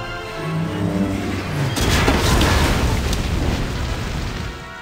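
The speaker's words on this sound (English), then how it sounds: "The gas pump exploded." A gas pump explodes in a Disney Planes Fire & Rescue kids' game, where a plane skids into a gas station; a loud rumbling blast swells after a short musical lead-in and roars on for about three seconds.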